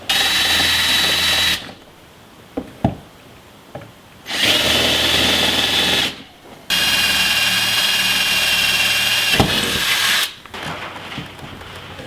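Power drill starting holes for Napier fender flares on a Jeep XJ, three long steady whining bursts of several seconds each separated by short pauses with small clicks and knocks, close and loud.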